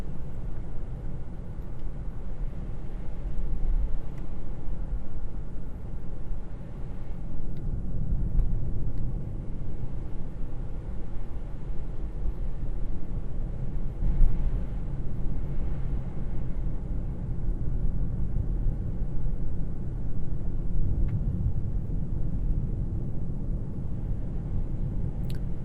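Tesla driving on a snowy road under FSD V14.2.1, heard from inside as a steady low road rumble and tire noise that stays continuous and fairly loud throughout, with no talk.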